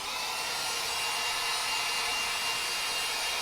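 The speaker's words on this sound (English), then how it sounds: "So grabbing the hair dryer," A hair dryer blows steadily on a high setting, a constant loud broadband whoosh with no pauses, close by.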